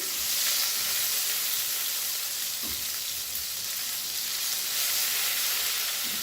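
Garlic-ginger paste sizzles in a pan for Afghani borani baingan, a constant hissing fry close by, with faint stirring underneath and no talk.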